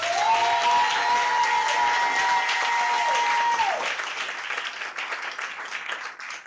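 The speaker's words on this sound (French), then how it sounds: "j'aimerais que tu acclames le Seigneur" Church congregation at a Sunday service bursts into loud sustained applause and acclaim, dense clapping with a rising sung or shouted tone held for several seconds before the clapping thins and fades.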